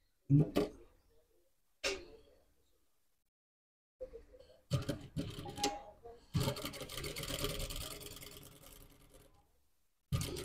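An industrial sewing machine topstitching panels on a black old-school safari suit, running in short bursts and then a longer steady run, with pauses in between and a voice speaking briefly.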